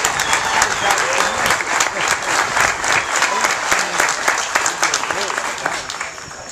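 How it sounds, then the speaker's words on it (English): An audience at a National Cancer Survivors Day event at a county cancer center gives loud, sustained applause, dense clapping filling the room with distinct sharp claps throughout, easing off slightly toward the end. "please give a round of great applause to all the people who work hard for the success of this project"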